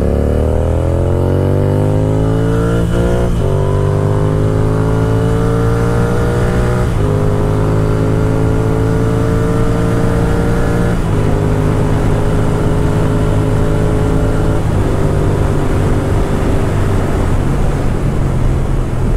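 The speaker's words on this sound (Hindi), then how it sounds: "प्रॉपर लॉन्च करेंगे और एक बार और अच्छे से रेस करेंगे" Apache RTR 310 and Continental GT 650 motorcycles racing side by side, loud engines revving hard through repeated gear shifts, pitch climbing then dropping at each change, steady roar throughout.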